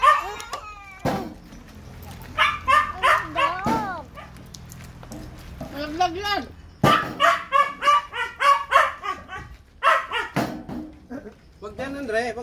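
A pet dog barks and yips in short bursts at close range, with whimpering between, mixed in with lively family conversation at home.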